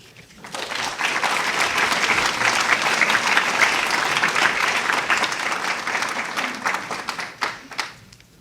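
An audience at a nursing program ceremony gives sustained applause that swells fast, holds steady for several seconds and then fades into scattered claps, filling a large room.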